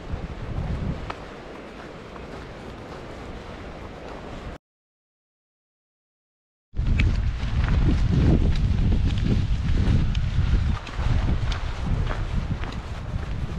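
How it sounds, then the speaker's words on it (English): Wind rushing through pine trees along a hiking trail, a loud steady roar with microphone buffeting, cut by a brief silent gap partway through. "I love the sound of the wind through the pine trees."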